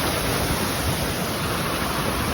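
Water rushes along a stream running milky white after rain, a loud unbroken roar of flowing water close by with no voices.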